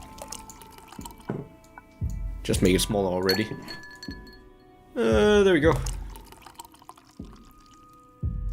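Liquid trickles and drips in a video game bartending scene, with bright glassy clinks scattered throughout and a person talking over it.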